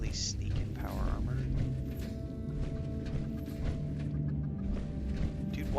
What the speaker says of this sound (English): Dude, why am I hearing chickens inside of a cave?